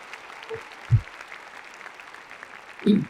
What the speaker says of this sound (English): Let's applaud the parents, families, friends, faculty, staff, and mentors